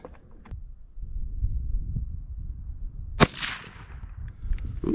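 A Henry .22 Magnum rifle loaded with Hornady 30 grain V-Max fires one sharp, close crack with a brief trailing echo partway through, set against quiet outdoor background.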